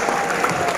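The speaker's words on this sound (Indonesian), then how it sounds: "Tepuk lingkaran buat semuanya" A large audience of farmers at a motivational gathering in Bogor claps in a loud, steady wash of applause for under a second.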